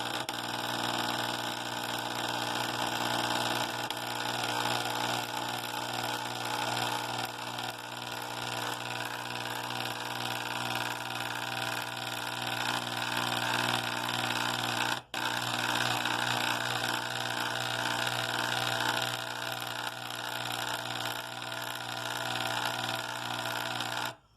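Steady, loud hiss of compressed air from a textile gun blasting debris off an epidote mineral specimen, running continuously with one brief cutoff midway, no talk.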